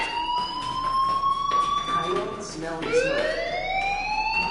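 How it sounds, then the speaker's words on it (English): A wavering electronic fire alarm tone in a video game sweeps and pulses continuously, loud and close, with a brief dip before rising again. "do you hear that fire alarm?"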